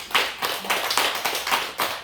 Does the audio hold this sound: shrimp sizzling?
no